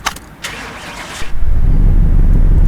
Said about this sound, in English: Now it should start right up.